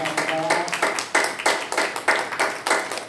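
A church congregation at a Korean Sunday worship service claps together in a steady, rhythmic burst of close, loud applause, with no talking over it.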